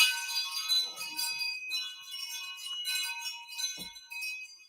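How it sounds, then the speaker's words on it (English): Butterfly wind chimes struck with drumsticks ring out in bright metallic tones, several overlapping strikes that sustain and decay, with a soft thump near the end. "they sent me blue drumsticks to hit the chimes when I got super chats"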